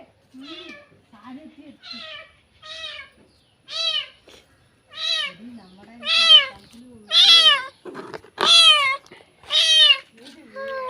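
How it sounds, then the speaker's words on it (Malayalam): A kitten meows repeatedly, close and insistent, each cry rising louder than the last, with soft voices murmuring beneath. "അങ്ങനെ നമുക്ക് പൂച്ചക്കുഞ്ഞിനെ കിട്ടി"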